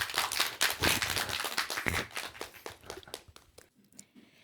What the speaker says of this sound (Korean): 큰 박수를 맞아주시면 고맙겠습니다